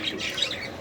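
Short squawk from a budgerigar, close and alone, with faint chirpy calls around it.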